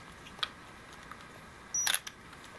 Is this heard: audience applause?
no